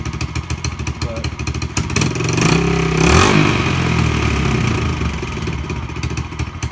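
A 2011 Yamaha TTR110E dirt bike engine runs close by, a steady buzzing idle that swells briefly as if revved before settling back, with voices talking over it.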